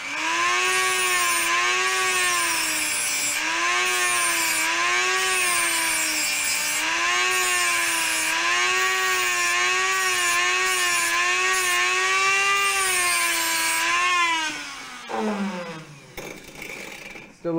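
A hand saw works back and forth through a lightsaber part being trimmed during assembly, a loud continuous rasping stroke rhythm lasting many seconds before trailing off into scraping.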